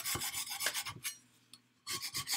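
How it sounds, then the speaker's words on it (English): Coarse rasping strokes of a dull scraper across a plaster of Paris mold, loud close back-and-forth scrapes in a rhythmic run, a brief pause, then more scraping. "Yeah, the scraper is not sharp,"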